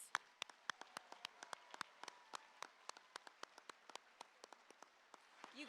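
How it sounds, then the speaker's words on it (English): Scattered applause at a high school graduation ceremony: sparse, individual hand claps ring out in an uneven patter, quiet and somewhat distant, with no voices over them. "Let's give them one more round of applause."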